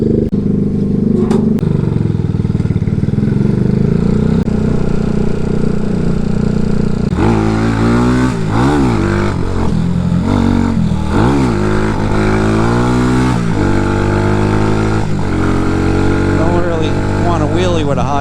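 A vehicle engine revs loudly and continuously during a 0 to 60 mph acceleration run, its pitch sweeping up and down through repeated throttle changes over a steady roar.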